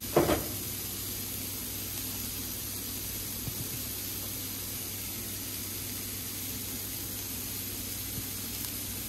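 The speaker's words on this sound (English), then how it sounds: "Added a little bit of water to the griddle, lit it. It's gonna steam that cheese down." Water splashed onto a lit griddle steams and hisses steadily to melt cheese, a brief louder burst at the start settling into a constant, even hiss with a low hum beneath.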